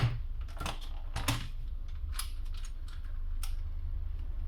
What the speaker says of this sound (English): I'll just cut it through the center just to get the pieces apart a lot easier.